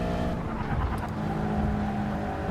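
A car engine in the GT Sport racing game accelerating at full throttle on the Tokyo Central Outer Loop track, a loud, sustained droning roar with steady tone throughout and no voices.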